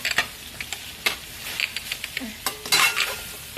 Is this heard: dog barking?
no